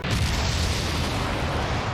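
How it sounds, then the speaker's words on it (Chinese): A deep, sustained rumbling roar of a violent explosion at a distant factory town in an animated scene fills the whole stretch, loud and dense like the aftermath of a large blast. "远处的工厂城突然发生剧烈爆炸，引起众人的警惕。"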